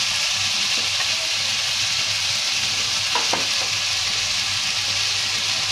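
Green chili frying in hot oil for a Bengali home-cooked dal, a steady dense sizzle running throughout with a few brief clicks partway, no talking.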